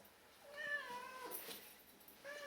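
A cat meows several times, with drawn-out, rising and falling cries heard clearly against a quiet background.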